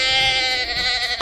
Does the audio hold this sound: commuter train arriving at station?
no